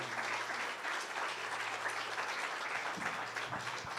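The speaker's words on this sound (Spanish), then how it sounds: "Vamos a recibir a la hermana con un aplauso" A church congregation applauds to welcome a sister to the front, a steady wash of clapping from many hands that holds evenly, moderately distant, with a faint low hum and a few soft knocks near the end.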